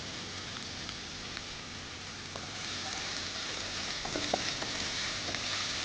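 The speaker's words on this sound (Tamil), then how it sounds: "இப்போ வெங்காயம் நல்ல கோல்டன் ப்ரௌனாக வதங்கி வருது" Sliced onions and slit green chillies sautéing in a pan for a mutton dish, a steady close sizzle and crackle with occasional faint pops, continuous without talk.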